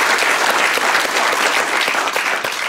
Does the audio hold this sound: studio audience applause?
yes